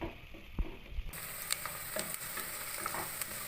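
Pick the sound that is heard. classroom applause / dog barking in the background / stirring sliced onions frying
stirring sliced onions frying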